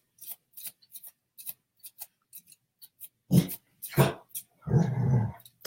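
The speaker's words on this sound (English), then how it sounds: "dog, don't bark" A dog barking and growling indoors in a quiet room: a few faint rasps first, then three loud, close bursts of barking and a longer growling bark at the end, with no talk.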